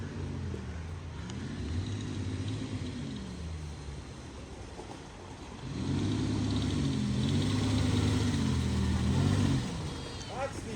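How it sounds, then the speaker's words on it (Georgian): Two off-road cars drive at an off-road festival, their engines droning and rising in pitch as they rev, with a louder surge of engine noise in the second half and a few voices faint in the background. "ორი მანქანა მოდის ერთდროულად."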